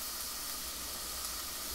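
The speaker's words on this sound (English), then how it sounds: "Throw my onions up in here real quick." Onions sizzle in a hot frying pan, a steady, even hiss of frying held at moderate volume without pause.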